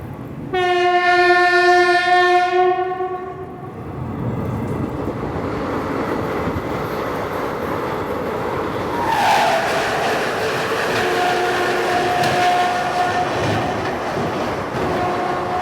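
17420 Vasco da Gama–Tirupati Express departing Guntakal Junction: a loud, sustained horn blast for about three seconds, then the steady rumble and rattle of rolling coaches, with a brief wheel squeal midway.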